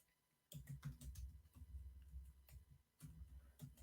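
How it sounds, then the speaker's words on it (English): Fast typing on a computer keyboard, bursts of close, crisp key clicks with a couple of short pauses, quiet and without talk. "This moment of typing brought to you by Tom Clark's Main Event."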